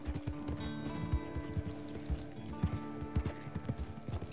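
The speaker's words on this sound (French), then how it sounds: "heureusement que je sais manœuvrer mon cheval" Horse hooves pound at a gallop in the video game Red Dead Online, a loud, rhythmic clip-clop running continuously over a steady game soundtrack, with a brief whinny-like note.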